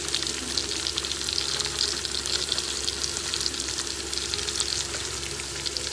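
Drumstick pieces frying slowly in oil over a low flame, with a continuous dense sizzle and crackle that stays even and close throughout, no voices.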